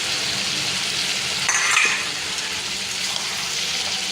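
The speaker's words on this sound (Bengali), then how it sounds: "ভালো করে নাড়বো, কষাবো" Chopped garlic and onion fry in a pan, a steady loud sizzle with a brief clatter of the stirring utensil partway through.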